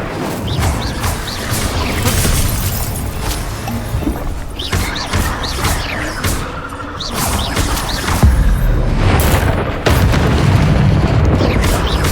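Incendio fire spell cast in the Hogwarts Legacy video game, heard as a series of loud booming, crashing bursts amid continuous combat effects, with rumbling hits recurring through the scene.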